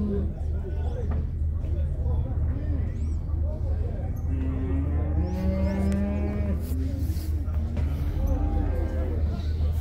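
Cattle moo at a livestock fair in Monte Alegre, Sergipe: several long, drawn-out lowing calls rise over a constant low hum and crowd murmur.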